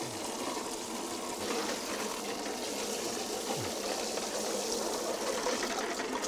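Coffee cherries and water are poured into a hand-cranked coffee pulper, producing a steady, close rushing and gushing wash of water that continues throughout without speech.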